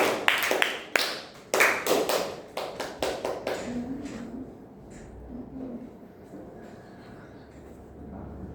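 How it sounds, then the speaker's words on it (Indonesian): University students in a teaching-practice class applaud a classmate with a short burst of scattered, sharp claps from a small group, lasting a few seconds before dying away into quiet room tone. "Tepuk tangan untuk saudari Mbak Selina."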